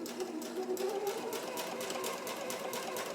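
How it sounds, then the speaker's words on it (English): A domestic sewing machine runs in a steady, continuous whirring stitch while sewing close beneath a dress zipper's teeth, a fast even mechanical hum that holds for the whole stretch without pause. "Force them over out of the way and sew underneath."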